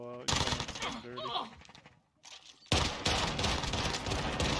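Shotgun blasts in a multiplayer video game fire loud and close, a burst early on, a brief lull, then another dense volley of shots, with players talking over the gunfire.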